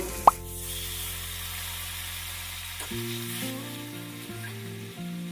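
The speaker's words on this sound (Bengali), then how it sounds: "এবার আমি অল্প করে একটু জল দিয়ে নেব।" Water splashes into a pan of frying onions and potatoes with a brief sharp plop, followed by a steady close sizzle and some stirring, with no talking.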